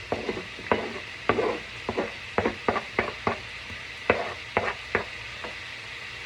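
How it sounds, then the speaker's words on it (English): Half an onion sautés in a pan that still holds a few leftover tomatoes, giving a steady sizzle broken by repeated sharp scraping clacks of a utensil stirring against the pan, with no talking. "So the other half of this onion I'm going to put into this pan and saute that up."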